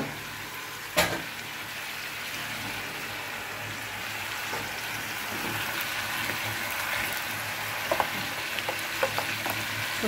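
Food sizzles steadily in a hot pan while a utensil stirs, with occasional scraping knocks against the pan and no talking.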